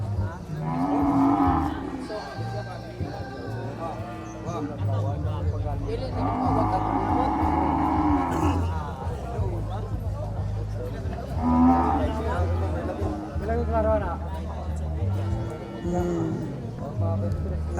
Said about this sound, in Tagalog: Buntis na kalabaw.